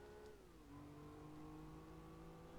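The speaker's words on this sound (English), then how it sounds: "I can just hear the other cars going up to the final hairpin there." Race car engines rise and fall in pitch as the cars accelerate and shift on a track in Gran Turismo 4, a steady mid-level engine drone.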